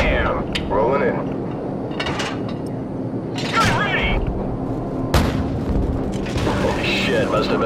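Heavy booms of a gas tank blowing up in Call of Duty: Modern Warfare's Death From Above gunship mission, several loud blasts rolling over steady engine drone while radio voices talk.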